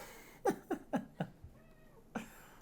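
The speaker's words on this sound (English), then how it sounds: "This is Mr. Kitty." A house cat meows several times in quick succession, then once more after a short pause, close and fairly quiet in a calm indoor room.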